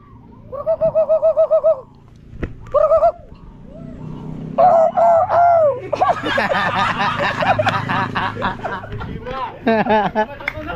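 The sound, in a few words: birds calling overhead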